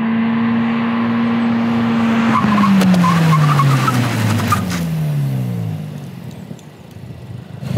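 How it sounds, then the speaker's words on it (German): Hyundai i20 N braking hard from speed, its tires squealing loudly as the engine note drops away, a sustained screech of several seconds close by, ending in quieter engine idle. "ich habe wirklich später gebremst, um wirklich genau drüber zu sein"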